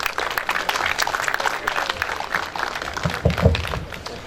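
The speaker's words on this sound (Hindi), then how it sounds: "आपकी तालियों में ख्वाजा फ़ुरक़ानुल हक़ साहब।" An audience at a mushaira, an Urdu poetry gathering held by a literary club, claps as a guest is invited to the stage. The applause is a loose, textured patter with a few brief voices near the end.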